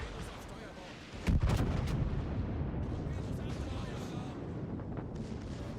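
Battleship guns firing a salvo in the World of Warships naval game, a single heavy booming blast followed by a long rumbling roar and crackle, with a faint voice underneath.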